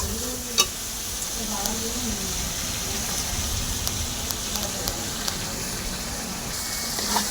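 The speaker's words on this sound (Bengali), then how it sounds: "এইবার মশলাটাকে সুন্দরভাবে কষাতে হবে, তেল ছাড়া অবধি।" Spice paste for a Bengali fish curry sautéing in hot oil, a steady close sizzle and crackle with occasional stirring scrapes, continuous throughout without talk.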